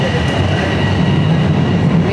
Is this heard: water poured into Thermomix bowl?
no